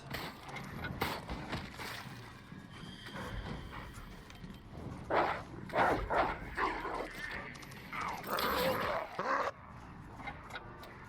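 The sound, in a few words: dogs barking in a video game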